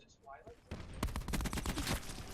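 A Titan light machine gun firing in Call of Duty: Black Ops 4: after a brief quiet lead-in, a rapid, steady run of loud close shots over about a second and a half, with voice underneath.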